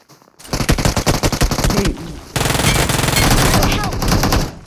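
Loud, rapid automatic gunfire from BGMI gameplay, with dense bursts of shots filling nearly the whole stretch and a brief lull partway through.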